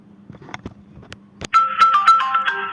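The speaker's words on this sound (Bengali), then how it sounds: "রিং হচ্ছে" Outgoing voice call to a Chinese wholesale supplier, ringback tone starting partway through with repeated electronic ring bursts after a quiet stretch of faint background clicks.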